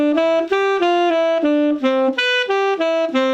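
A saxophone plays the opening two bars of a bebop line, a quick run of clear sustained arpeggio notes, close and prominent with no talking.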